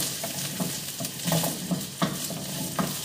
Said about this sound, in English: See, I'm frying the carrots and the potato.